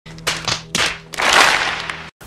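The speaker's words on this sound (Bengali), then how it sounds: "হাততালি হাততালি" Hands clap during a Mardi Himal trek in Nepal: two sharp separate claps, then a denser burst of clapping lasting about a second, fairly close, over a steady low hum.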